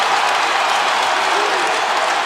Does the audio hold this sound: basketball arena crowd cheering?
yes